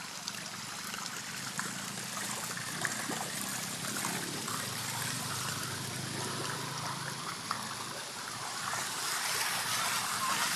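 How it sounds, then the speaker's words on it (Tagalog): Floodwater flows and trickles in a steady broad wash, fairly faint and continuous, with a few small knocks. "dyan nanggagaling yung tubig na baha"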